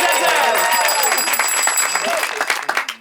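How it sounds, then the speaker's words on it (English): An improv comedy show audience breaks into loud, dense applause with some cheering, fading toward the end as a voice starts talking over it. "Big round of applause for the final round"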